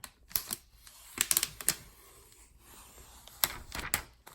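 A MacBook Air box being opened, with sharp close crinkles, clicks and tapping of packaging in irregular bursts, quiet between handling noises.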